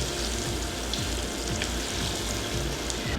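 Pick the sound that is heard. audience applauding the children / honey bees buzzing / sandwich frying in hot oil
sandwich frying in hot oil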